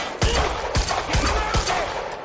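Bursts of gunfire from the video game Quantum Break, several sharp shots spaced roughly half a second apart over steady loud combat noise.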